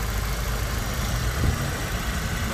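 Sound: 2013 Chevrolet Aveo automatic car engine idling

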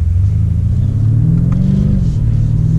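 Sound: BMW M5 Competition F90 engine while driving

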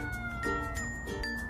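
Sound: cats meowing during a standoff

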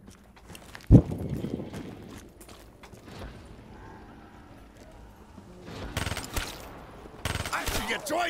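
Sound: gunfire from a video game, Black Ops 3 Zombies

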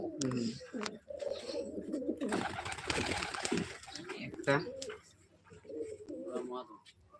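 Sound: pigeons cooing

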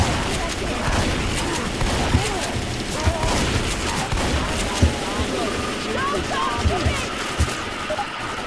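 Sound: gunfire at a tank in Left 4 Dead 2 video game

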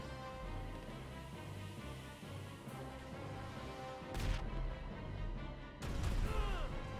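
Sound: gunshots in the video game GTA 5

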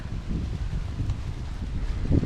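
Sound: wind

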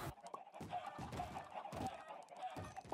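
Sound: chickens clucking while being killed, video game

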